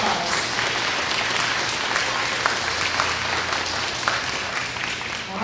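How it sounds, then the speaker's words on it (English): Audience applause at an elementary school breakfast ceremony, a steady crowd of many hands clapping at a fairly even level throughout, with no one speaking over it. "So let's give everybody in here one big round of applause."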